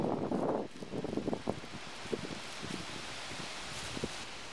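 Blustery wind on a rainy morning in Hampstead, London, gusts buffeting the microphone with a rough rumble, loudest at the start, then a steady windy hiss with scattered rustling bumps.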